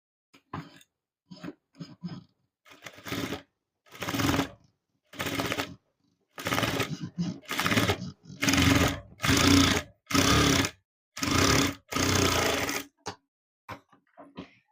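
Sewing machine stitching a blouse in bursts, a run of roughly ten short, loud stretches of rapid needle clatter separated by brief pauses, alone and close.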